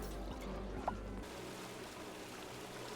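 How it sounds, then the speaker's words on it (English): Steady splashing and trickling of falling water from an overpressurized tile in a video game, a continuous moderate wash of sound with a low hum beneath it. "You hear that sound of water falling?"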